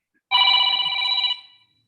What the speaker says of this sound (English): Somebody's ringing the bell and saying time's up